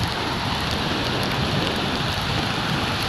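Steady rain falls during a bicycle ride, a dense continuous hiss of drops with no break or voices over it.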